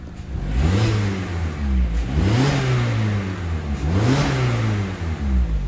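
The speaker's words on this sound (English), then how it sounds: "I'll give a couple revs for you guys." A 2016 Mazda MX-5 Miata GT's engine revs three times in succession, each blip rising and falling in pitch, loud and close with no talking.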